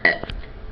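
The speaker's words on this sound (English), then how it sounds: "Burp, burp, burp." A short, loud, close burp during a burping contest, one guttural belch standing alone, followed by a faint low rumble.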